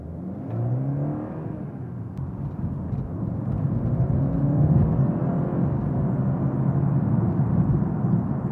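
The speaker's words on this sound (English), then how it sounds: "let you listen to what it's like when the fake engine sound is off, the exhaust flap is open" Inside a BMW with the fake engine sound turned off and the exhaust flap open, a low engine rumble and whir builds gradually and holds steady, heard from the cabin with the windows up.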